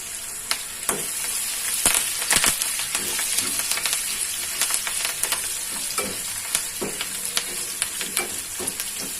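Garlic, ginger, green chilli and curry leaves fry in hot oil with a dense, crackling sizzle and scattered sharp pops, close by and steady for several seconds, with no voices.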